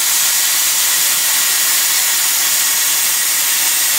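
A heavy cutting machine slices through an 8 mm metal plate, giving off a loud, steady, close broadband hiss that holds without a break.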